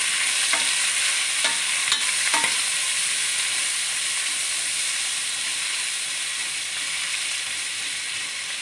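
Prawn biryani masala sautéing in a pan, a constant bright sizzle and hiss with a few stirring scrapes early on, steady and close without any voices.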